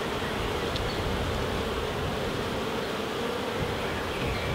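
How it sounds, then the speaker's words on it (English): Honey bees buzz around an observation hive while it is being transferred. The dense, steady drone is close and continuous, with no voices. "The bees are just buzzing around me a bit"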